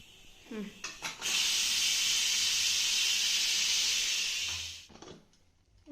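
A pressure cooker vents steam in a continuous loud hiss lasting several seconds, cooking a spicy North Karnataka dish, with brief clatter before it starts and the hiss fading out near the end.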